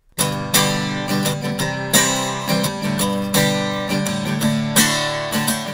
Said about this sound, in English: Played just like a regular acoustic and mic'd up, it sounds like this.